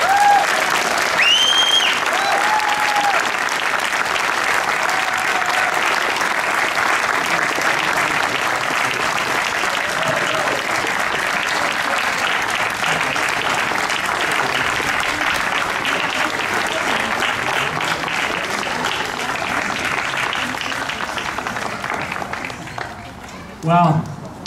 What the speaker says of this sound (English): a huge round of applause for the family in Michael's name